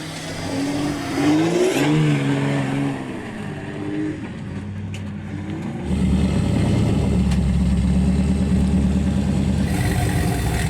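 Jeep Gladiator on an off-road trail obstacle at Trail Hero, its engine revving in short rising bursts, then settling into a louder, steady low drone as it climbs.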